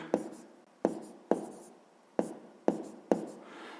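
Pen writing numbers on paper: six crisp taps and short scratching strokes in an uneven rhythm, close and clear, with no talking.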